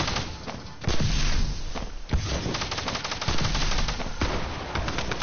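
Heavy, loud video-game gunfire as enemies are shot, continuous machine-gun bursts with sharp thuds and quick rattling shots running throughout, no talking.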